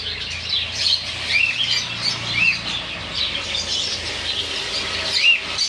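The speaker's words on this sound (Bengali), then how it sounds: "এই পাখিগুলো দোকানের পাখি" Many small lovebirds and other caged birds in a pet shop chirp and squawk continuously in a noisy chorus, close by, with a low background hum.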